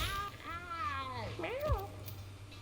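Cat meowing in the video game Mewgenics, a few drawn-out, wavering meows close up, heard over a low steady background hum.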